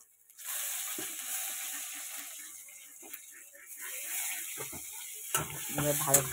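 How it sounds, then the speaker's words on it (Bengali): Two dried red chillies, grated ginger and bay leaves fry in hot oil as a tempering. The oil gives a steady, close sizzle, with scraping stir strokes and light clatter from the pan near the end. "ফোড়নগুলো ভালো করে সব ভাজবো।"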